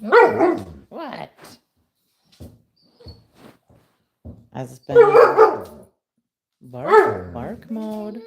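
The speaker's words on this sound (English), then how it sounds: "No more barking. No, we don't need to be barking." A puppy barks in short, sharp bursts with pauses between them, close by, while a person talks over and between the barks.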